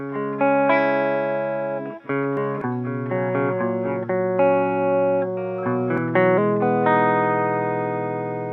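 Electric guitar plays the third verse of a song, clean notes and chords ringing with effects, reverb and chorus shimmer, sustained tones changing every second or so over about eight seconds, with no talking.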